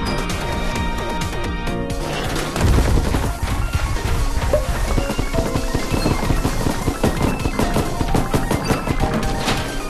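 Shots ring out in the video game Sugar Mess as a target is fired upon: rapid bursts of synthetic gunfire and thumps pile over a busy game soundtrack, loud and continuous.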